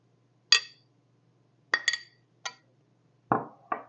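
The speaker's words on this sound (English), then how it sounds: "I'm just going to dip the serrated knife into the warm glass of water for a couple seconds" A serrated knife dipped into a glass of warm water, several distinct clinks of metal against glass, sparse and close, separated by quiet pauses.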